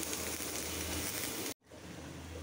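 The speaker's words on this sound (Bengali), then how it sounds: "পেঁয়াজ ভাজাটা হয়ে গেছে" Onions frying in oil in a pan, a steady soft hiss and crackle that cuts out briefly, then resumes.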